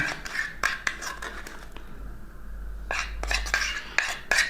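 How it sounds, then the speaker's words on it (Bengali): A metal spoon stirs warm hand-feeding formula for a cockatiel in a bowl, giving repeated close clinks and scrapes in short bursts with a pause midway, and no talking. "চামিচ দিয়ে ভালোভাবে লাড়লে আস্তে আস্তে ঠান্ডা হয়ে যাবে"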